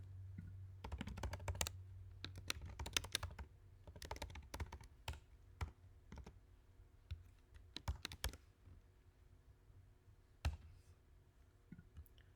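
Keyboard typing on a computer while setting up an Ethereum project: bursts of quick, close key clicks in uneven runs, pausing and resuming over a low steady hum, with no one talking.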